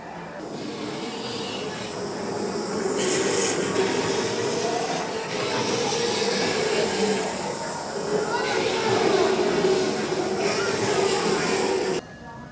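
A Disneyland Railroad train approaching Main Street station rumbles along with a steady low roar and a tonal hum, swelling slightly at moments before cutting off abruptly at the end.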